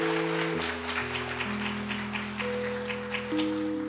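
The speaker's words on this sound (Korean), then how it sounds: "뜨겁게 박수로 축하해주시면 감사하겠습니다." Church congregation applauding after a baptism at a baptism and confirmation service, steady clapping spread across the room beneath sustained keyboard chords that shift throughout.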